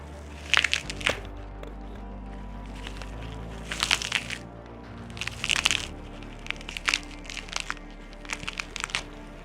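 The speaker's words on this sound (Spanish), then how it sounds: "el apio tiene una estructura que es muy fibrosa, que al romperse genera este ruido que es seco y además preciso" Celery stalks are snapped as foley for bones breaking in a slasher film, giving a series of sharp, dry, fibrous cracks and crunches in separate bursts, close and crisp over a quiet background.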